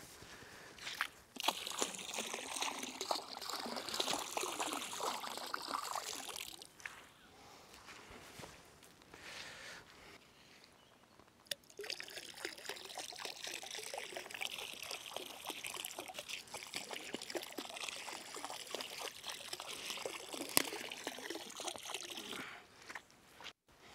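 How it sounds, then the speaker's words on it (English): Liquid pond dye poured from gallon jugs into a pond along the shoreline: a sloshing, trickling pour that runs for several seconds, breaks off briefly, then resumes as a steady splash and gurgle nearby. "I've poured 3 gallons of the pond dye in along the shoreline on this side"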